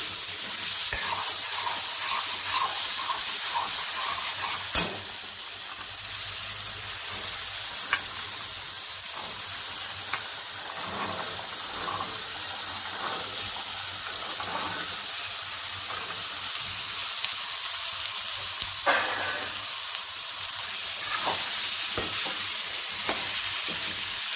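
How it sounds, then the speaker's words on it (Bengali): Boiled chickpeas fry in a pan for masala chana, giving a steady, close sizzle broken by scattered scrapes and clicks of stirring throughout, with no talking. "তাহলে আপনারা দেখুন আমি কীভাবে চানা মশলাটা করছি"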